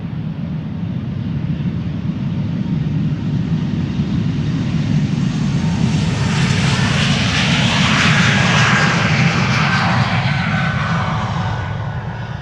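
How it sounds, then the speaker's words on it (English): An Air Baltic Bombardier C-Series 300 (A220) jet takes off at Amsterdam Schiphol Airport, a steady loud engine roar that swells and brightens midway as it passes close by, with no talk over it. "This is Air Baltic, flight 858 to Tallinn. It's a Bombardier C-Series 300, aka A220."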